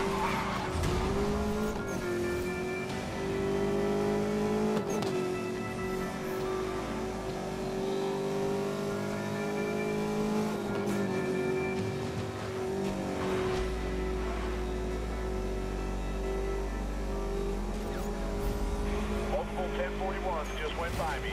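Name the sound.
cars racing in video game Need for Speed Most Wanted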